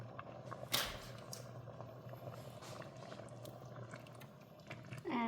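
Cream cheese sauce with cubed cream cheese simmering steadily in a pot on a stovetop, a soft continuous bubbling hiss with faint clicks, steady throughout, with a brief louder clatter near the end.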